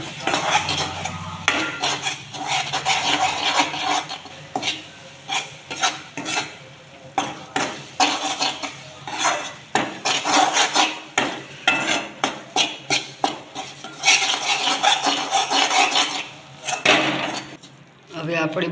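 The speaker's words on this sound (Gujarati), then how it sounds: "એકદમ મિક્સ કરી દઈશું" Jaggery being stirred into a Gujarati sukhdi mixture in a pan, with repeated scraping and clinking of a spoon against metal in steady rhythmic strokes, close and fairly loud, alongside faint sizzling.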